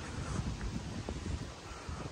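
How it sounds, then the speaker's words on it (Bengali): Wind blowing outdoors on a hot day in Colindale, London, a steady, close rush buffeting the microphone with faint rustling and no talk. "বাতাসও আছে গরমের লগে"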